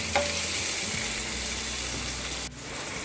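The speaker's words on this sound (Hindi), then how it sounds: "जब तक हमें प्याज को फ्राई करना है।" Onions sizzling steadily in a hot pan for kaju paneer curry, a close, continuous frying hiss with a light stir partway through.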